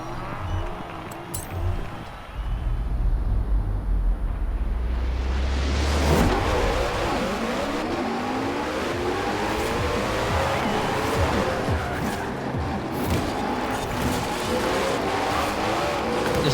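A Koenigsegg Jesko engine screams through repeated rising revs and gear shifts in a car race in Forza Horizon 4, loud and close, with tire squeal and a quieter opening before the engine surges in.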